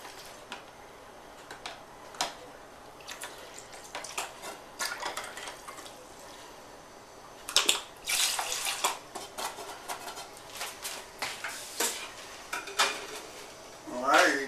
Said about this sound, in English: you guys heard there, I'm rinsing it out with a little sanitizer